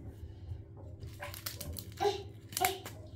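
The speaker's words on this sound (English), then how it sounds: "Oh, this dog barks at everything." A neighbour's dog barks a few short times in the distance over a steady background hum, with brief yelps rising near the middle and end.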